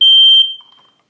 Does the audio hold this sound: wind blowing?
no